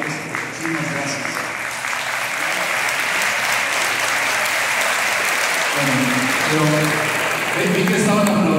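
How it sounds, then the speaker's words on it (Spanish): Sustained audience applause at a municipal orchestra's anniversary concert in Xalapa, dense and steady throughout with continuous clapping and crowd noise, loud and close. "Pero vi que estaban aplaudiendo mucho"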